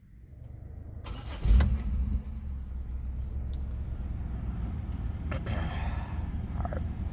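A car engine starting during a home oil and filter change: a short cranking burst that catches into a steady idle, which then runs on with a low purr and faint clicks.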